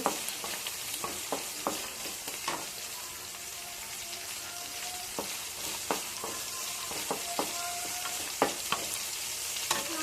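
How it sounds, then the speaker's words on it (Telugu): Green chillies fry in a pan for a mushroom fry, a steady sizzle with scattered sharp pops and the occasional scrape of stirring, close and fairly quiet, with no talking. "ఫస్ట్ పచ్చిమిర్చి వేసుకోవాలండి ఎందుకంటే అవి ఫ్రై కాకపోతే చేయవచ్చుంది"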